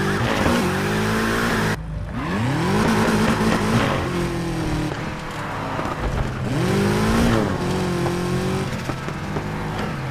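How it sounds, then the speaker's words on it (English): A BMW M3 engine in the Need for Speed Heat video game during a night police pursuit, revving loudly and rising in pitch through repeated gear changes, with tire squeal and skidding mixed in, continuous and close throughout. "I'm chasing after a BMW M3."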